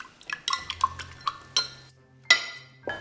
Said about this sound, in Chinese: 酵母用常温水先搅拌融化